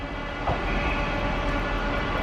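A railway platform at Worcester carries a steady rumbling roar of a passing or idling train, loud and close throughout.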